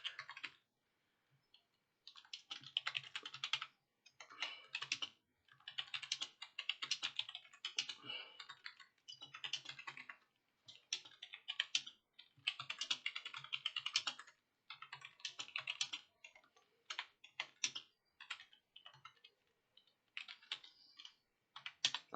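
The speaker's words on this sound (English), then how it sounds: "So I'm going to type the message." A message typed on a computer keyboard, quiet keystrokes arriving in quick bursts separated by short pauses, close and dry with no talking.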